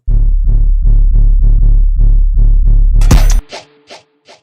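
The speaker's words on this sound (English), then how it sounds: "We have the 808, nightclub 808." Deep, booming Roland TR-808 bass hits from a Jersey club beat pulse in a steady loop for about three seconds, then cut off abruptly, leaving a few sparse percussive hits trailing away.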